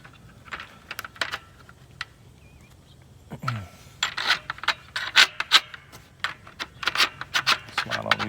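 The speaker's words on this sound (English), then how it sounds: "So I'm gonna slide each of these clamps down in here on each side." Metal clamps slide along the track of a BAK Revolver4 tonneau cover on a pickup with a 5-foot bed, giving a series of close scraping clicks and rubs, irregular and sharper in the second half.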